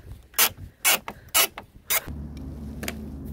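A tool works loose the hidden bumper screws on a MK5 Volkswagen GTI: four quick, bright ratcheting creaks in a row at close range, followed by a steady low hum.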